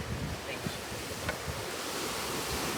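Sea surf washes and hisses in a broad, steady rush, with gusts of wind buffeting the microphone, fairly faint and continuous across a few seconds with no clear talking.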